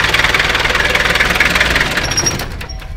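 A vehicle engine idles loud and close as a ride pulls up in the hills of Mandaram Nuwara, Sri Lanka, a rapid rhythmic knocking throb that drops and thins near the end.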